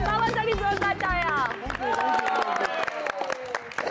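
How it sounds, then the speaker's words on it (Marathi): Studio audience at a Marathi TV family game show breaks into loud, sustained applause and cheering for a father who has just won, with a burst of musical fanfare at the start. "बाबासाठी जोरदार टाळ्या."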